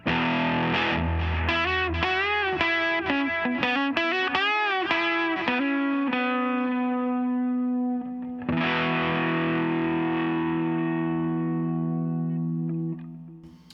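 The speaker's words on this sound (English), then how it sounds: "For the next one, I have just an overdrive." An electric guitar plays through an overdrive on a Line 6 M13 effects unit, with quick gritty notes and slides, then a sustained chord that rings out before cutting off.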